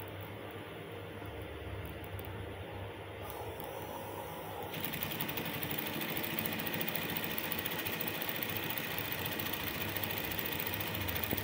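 Sewing machine running while stitching a welt pocket, a steady mechanical hum that grows louder and faster partway through as the stitching speeds up, with no talking.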